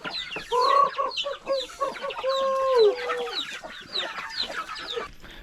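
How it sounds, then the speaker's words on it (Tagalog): Chickens clucking at close range in rural La Union, a busy overlapping run of calls and short squawks, with no talk over them. "Ayan ang mga manok, dami."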